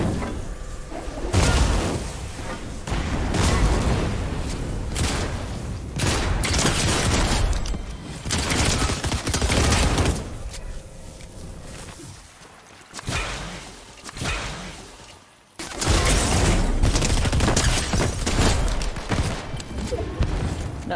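Gunfire in the video game Fortnite during a squads match comes as dense, loud bursts of shots and booms layered with game effects, nearly continuous with brief lulls.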